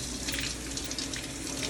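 Hot water pours from a sink tap as a dish is rinsed clean of leftover debris, a loud, steady, close rushing splash with no voices.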